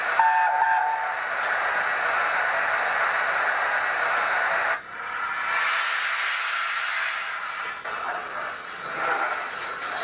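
A Hornby LNER P2 model steam locomotive sounds its whistle, a sustained hissing, tonal blast with steam-like noise that breaks briefly midway and resumes, close and fairly loud with no talking.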